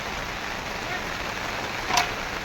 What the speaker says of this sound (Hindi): बारिश एकदम तेज़ी पे है